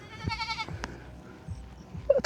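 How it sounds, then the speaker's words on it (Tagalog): A goat on a farm gives a short bleat over soft rustling and footsteps, followed by a few quieter scuffs and a brief higher cry near the end, all fairly close. "Hindi ako marunong manghuli ng kambing."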